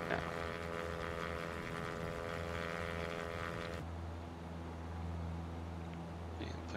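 Steady propeller-engine drone of a simulated light airplane cruising over Martin State airport, a continuous low hum with tonal harmonics that shifts to a deeper, smoother tone partway through.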